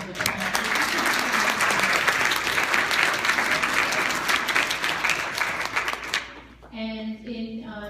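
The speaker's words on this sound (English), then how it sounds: "give Diane a big round of applause." Audience applause at a legal updates gathering, a dense steady burst of clapping lasting about six seconds before cutting off, after which a voice begins speaking.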